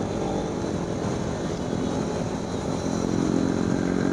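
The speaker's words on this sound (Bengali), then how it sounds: "মোটোজিপি রেস হচ্ছে, দেখতে পাচ্ছ সব কেমন টানছে।" Motorcycle engines droning at high revs during a MotoGP-style wheelie race on the Sundarban ride, a steady loud roar that holds without a break and swells slightly toward the end.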